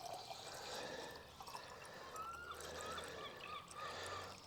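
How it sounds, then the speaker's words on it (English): About a litre of water is poured into a clay olla pot outdoors near chickens, making a faint, steady trickling splash that runs throughout with no talking. "This is about 1 litre of water going in here."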